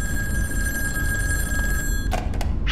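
A telephone in a scary video game rings loud and steady with a continuous electronic bell tone, then breaks off into a couple of short clicks near the end, with no talking.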